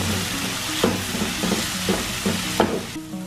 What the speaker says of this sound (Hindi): अब इसको भी थोड़ी देर भून के फिर चने डालते हैं।